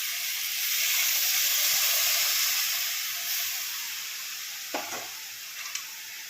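A steady frying hiss of vegetables fills the pan, fading slightly, with a few short scraping knocks from stirring near the end.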